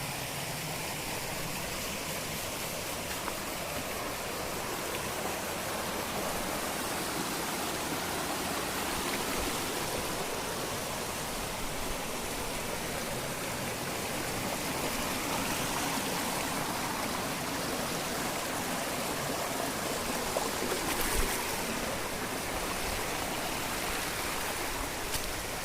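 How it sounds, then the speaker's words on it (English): A scenic waterfall pours and streams continuously, a broad, steady hiss of falling water close by with no pauses or voices, level and unchanging from start to finish. "Water is falling down."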